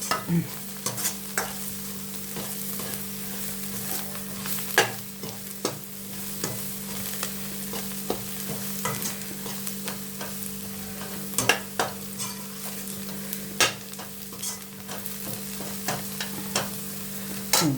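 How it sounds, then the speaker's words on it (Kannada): Fenugreek leaves frying in a pan for a methi tandoori chicken gravy, a constant sizzle punctuated by repeated sharp scrapes and knocks of a spoon stirring, close and clear with no talking. "ಇನ್ನೊಂದು ಸ್ವಲ್ಪ ಫ್ರೈ ಆಗಿಬಿಡಲಿ ಮೆಂತ್ಯ ಸೊಪ್ಪು."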